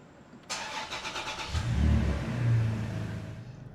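A Toyota Tacoma engine cranks and catches, then revs and settles into a steady run while the transmission is shifted through the gears, close and moderately loud.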